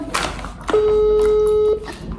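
A phone rings once with a steady electronic tone lasting about a second, set between brief rustling and faint background noise.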